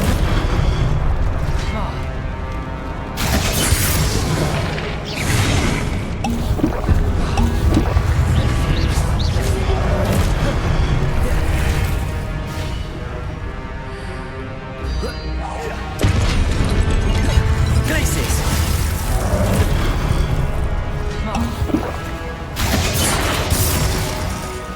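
Fiery Confringo blasting spells explode again and again in Hogwarts Legacy combat, with loud booms and crashing impacts packed densely over a constant roar of battle.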